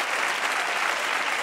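A television studio audience claps in a dense, steady burst of applause, loud and even across the whole short stretch, with no distinct voices over it.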